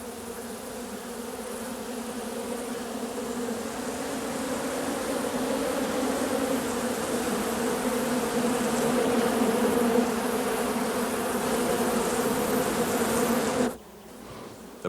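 A honeybee hive swarming with two queens gives off a dense, steady buzzing drone that swells slightly and then cuts away near the end, loud and continuous.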